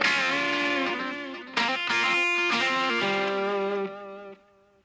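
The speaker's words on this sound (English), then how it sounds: "just a touch of reverb, so we only get maybe one, no more than two feedback repeat for the delay." A music production tutorial demonstrates a stereo delay echo with a light reverb tail in Studio One 3 Prime: a sustained tonal phrase carries one or two echoing repeats and then fades away into a soft decaying tail.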